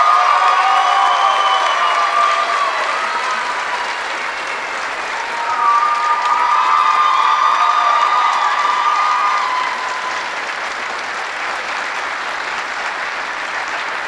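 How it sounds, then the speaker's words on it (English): Loud sustained applause with cheering from the audience at a senior celebration, a dense continuous wash of clapping with whoops and shouts over it, swelling again midway. "Let's have a rousing round of applause for AC."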